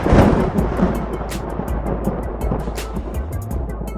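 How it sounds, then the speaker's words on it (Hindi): Thunder rolls overhead in a long, low, continuous rumble with scattered crackles, fairly loud and alone without any talk. "बादल गरजने लगा, अब जरूर बारिश आएगा"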